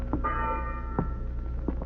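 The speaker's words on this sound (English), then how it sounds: "I've been ringing this bell steady, sir." A ship's bell rings in an old radio drama, a single clear metallic strike with a lingering tone, and faint knocks sound behind it.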